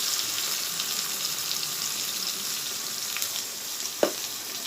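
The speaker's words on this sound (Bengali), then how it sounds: "এবার মশলাটাকে কষিয়ে নেব।" Ginger, chilli paste and cumin powder sizzle in a hot pan for a Bengali hilsa kalia curry, giving a steady, fairly soft hiss with one brief clatter near the end and no voices.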